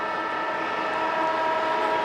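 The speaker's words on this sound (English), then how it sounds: "Siren's gone." An Australian football stadium siren sounds at a preliminary final, a steady, sustained wailing tone that runs the whole time with no break and no speech.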